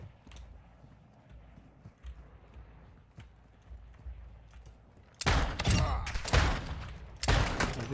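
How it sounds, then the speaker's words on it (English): Gunfire in a war video game, heavy bursts of automatic fire erupting loudly after a quieter stretch of low rumble and scattered distant shots, rapid and sustained near the end. "Taking effective fire."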